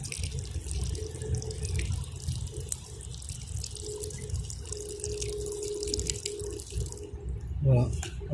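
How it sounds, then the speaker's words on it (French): Water poured from a small pot over a braid to soak it, a steady close trickle and splash that runs continuously with a brief louder gush near the end. "Voilà, vous allez mouiller la tresse."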